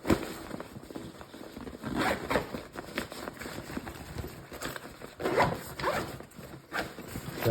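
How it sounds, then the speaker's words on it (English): A zip-style ring is run around the perimeter of a Xhaust exhaust fitting, giving an uneven, rasping, rubbing sound in bursts across several seconds, moderately loud and close, with no talking. "go ahead and run your zipper around the perimeter"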